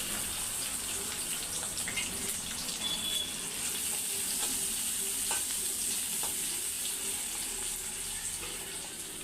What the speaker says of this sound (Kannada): ಉಳ್ಳಾಗಡ್ಡಿ ಹಾಕಾಕ್ತೇನೆ.